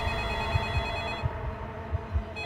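A telephone rings with a loud, bright electronic trill, the ring cutting off partway and starting again, accompanied by soft low thumps in the background.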